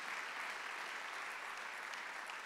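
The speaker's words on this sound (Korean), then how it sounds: "얼마든지 하나님의 이름을 존귀하게 할 수 있다고 믿으시면 박수 한번 주세요" A church congregation at a Sunday worship service applauds in a steady, dense wash of clapping that holds evenly from start to finish, fairly soft and distant.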